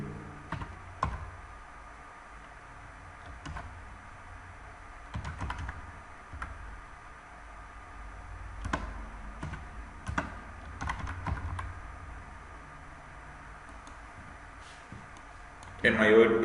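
Soft, scattered keystrokes clatter on a computer keyboard in short bursts and single taps while coding in Python, with a louder thump at the end.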